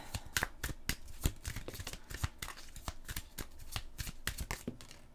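Tarot cards are shuffled nearby in a quick, crisp run of riffling slaps and flicks that repeats steadily and quietly, with no talk.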